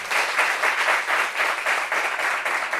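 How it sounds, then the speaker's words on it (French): A studio audience applauds a guest on a French talk show, with steady dense clapping holding at an even level for the whole stretch and no talk over it. "On peut applaudir déjà."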